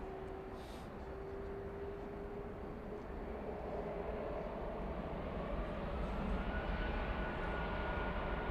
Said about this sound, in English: RNAV park, runway 18 left, clear for takeoff.